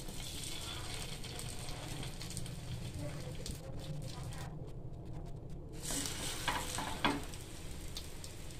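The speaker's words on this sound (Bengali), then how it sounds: "তারপরে আমি ডিমে এই পাউরুটি এভাবে" Egg-dipped bread slices fry in a lightly oiled pan, giving a soft continuous sizzle with scattered clicks and scrapes from handling, fairly quiet and with no speech.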